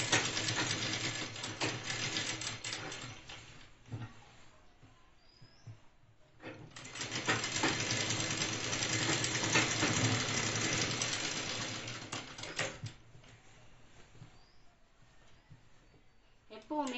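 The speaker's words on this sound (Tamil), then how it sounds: "இந்த நடு சென்டரில் இங்கே வச்சு முதல்ல ஒரு தையல் போடுவோம்" A sewing machine stitches the shoulder seam of a chudidar top sleeve, with long steady runs of whirring hum broken by pauses, while someone talks over it.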